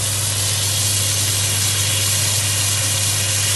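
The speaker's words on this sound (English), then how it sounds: "So at this point I'm going to add in my butter." Butter sizzles in a hot pan with mushrooms and shallots, a loud, steady, unbroken hiss with a low hum underneath and no voices.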